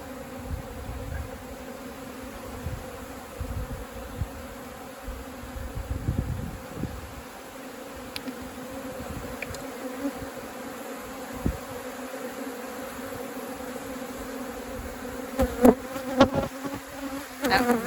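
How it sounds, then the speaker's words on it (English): Native honeybees swarm close in front of a camera during a colony rescue in Manacor, Mallorca, with a steady buzzing hum and individual bees droning loudly past the lens. "Those are bees all flying in front of the camera when it goes black."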